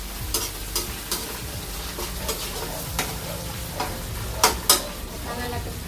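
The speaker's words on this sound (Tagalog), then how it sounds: "igisa ng sardinas" Sardines sautéing in a pan sizzle steadily up close, with rhythmic scraping stirs and clinks of a utensil against the metal, a couple of louder knocks near the end.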